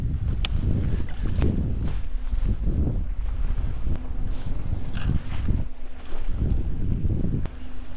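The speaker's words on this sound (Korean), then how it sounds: "지금 바람 많이 불고 있고요" Strong outdoor wind at a fishing spot on a cloudy, chilly day, buffeting the microphone in steady loud gusts with low rumbling roar and faint water sounds, no voices.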